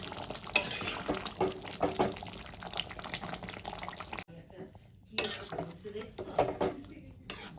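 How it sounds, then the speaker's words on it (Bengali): A metal lid is lifted off a pot of Kashmiri chicken on the stove, giving short clattering knocks amid ongoing kitchen clinks, stirring and a soft sizzle. "এবার আমি ঢাকনাটা তুলে দেখে নেব।"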